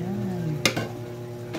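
Pancit bato noodles stirred in a sizzling pan, with a steady frying hiss under a couple of sharp utensil scrapes and clacks against the pan.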